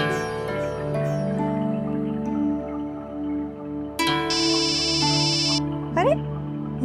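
A mobile phone ringtone for an incoming call sounds at home. A bright electronic melody rings for about a second and a half over steady background music.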